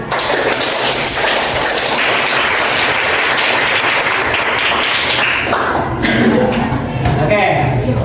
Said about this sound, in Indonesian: tepuk tangan dulu 2 kali, kanan, kiri, lalu 3 kali